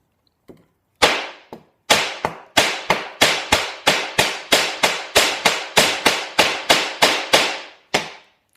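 Sharp metallic hammer strikes on the tip of a metal drill bit ring out in a steady rhythm, about a dozen evenly spaced blows, loud and close.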